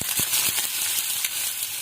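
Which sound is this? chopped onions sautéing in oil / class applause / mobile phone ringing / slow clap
chopped onions sautéing in oil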